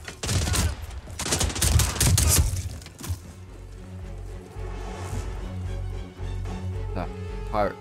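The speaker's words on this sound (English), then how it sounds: "Who the fuck are you shooting at?" Gunfire in the Hitman 3 video game on Ambrose Island, a loud cluster of rapid shots over the first few seconds, followed by quieter background hum and a few faint later sounds.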